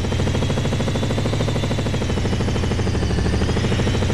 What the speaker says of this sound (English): The controls for the helicopter are pretty easy to use.